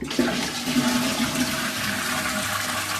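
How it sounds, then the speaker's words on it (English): A soft-closing toilet with a concealed flush plate runs a full flush, a steady close rush of water swirling and draining for the whole stretch without pause. "You get your full flush and your half flush."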